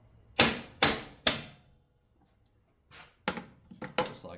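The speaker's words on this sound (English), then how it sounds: "Now I should be able to take a hammer and just tap that out." Hammer blows knocking a part out of a large piece of scrap electronics, three sharp close strikes, a pause, then a cluster of lighter quicker taps.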